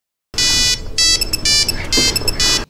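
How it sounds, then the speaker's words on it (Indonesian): A kidnapper's mobile phone rings with a loud electronic ringtone in repeated bursts separated by short gaps, close and alone. "Tapi kemudian, ponsel penculik berdering dan Simon tersadar."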